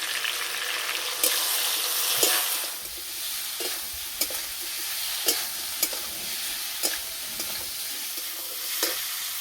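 Spice paste with turmeric and cumin powder frying with pumpkin in a village kitchen, a soft continuous sizzle broken by sharp scraping clicks of a spoon against the pan at irregular intervals, with no one speaking.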